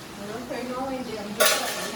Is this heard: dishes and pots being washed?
yes